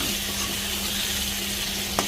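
Spiced masala with cumin powder being sautéed in a pan, a dense continuous sizzle heard up close with a faint scrape or tap near the end.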